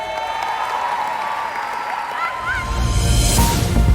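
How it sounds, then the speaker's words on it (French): Crowd applause at a stadium inauguration in Martigues, steady clapping under faint voices and whistles, growing louder and denser toward the end. "Applaudissements"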